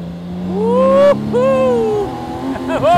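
BMW K1600 Grand America motorcycle engine revving up and down in repeated rising, falling whines, loud and close, with a sharp cut between revs and an exclamation from a rider at the end.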